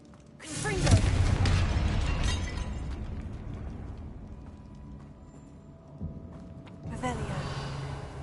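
A Confringo spell explodes in Hogwarts Legacy with a loud blast and shattering crash that fades over several seconds, then a second burst follows near the end, with a voice speaking briefly.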